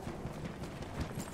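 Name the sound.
horse galloping in video game Battlefield 1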